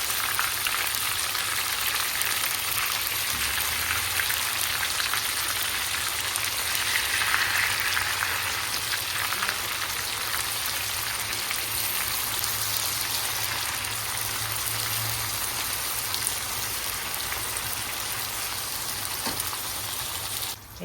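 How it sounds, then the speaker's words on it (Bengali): Hilsa fish fries in spiced oil, giving a steady, close, rain-like crackling hiss that holds at an even level throughout with no talking. "এরকম মশলাটা দেওয়ার পরে এরকম লাল লাল লাল লাল করে ভেজে নিতে হবে।"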